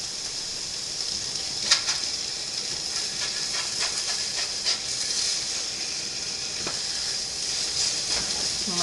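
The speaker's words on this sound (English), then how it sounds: "I'll let that steak on, just stay on there just a few more minutes" Steak searing in a hot pan, giving a steady close hiss and sizzle that runs the whole time with a few brief pops and no talking.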